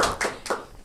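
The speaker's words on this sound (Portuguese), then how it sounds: "Estúdio, palmas. Palmas." A studio audience gives a brief burst of applause, three quick clap bursts in under a second, close and fairly loud with no talking.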